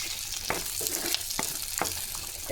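Chana dal sautéing in sesame oil for a spicy chutney gives a steady close sizzle, with brief scraping stir strokes recurring every half second or so.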